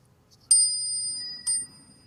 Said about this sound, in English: a new bell.